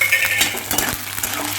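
Torn green chilies drop into hot oil already tempering with dried red chilies and bay leaves for a vegetarian taro-leaf ghonto, giving a brief close sizzle with a few light utensil clinks.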